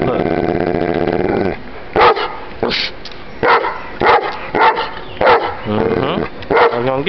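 Close, loud barking from a Presa Canario dog, several sharp barks in bursts with some growly, whiny sounds between them, while a person talks at the start and again near the end.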